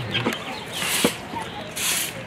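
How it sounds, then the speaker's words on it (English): Soft chicken clucks come in short bursts over a faint outdoor hiss. Brief, moderately close calls, with background noise between them. "Oh, we got chickens got the chicken breeds."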